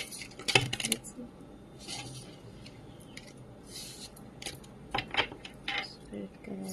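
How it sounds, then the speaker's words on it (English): Tarot cards being shuffled by hand, giving quiet papery riffles and flicks in a few short bursts, with soft rustling and handling noise in between. "Let me just shuffle the cards."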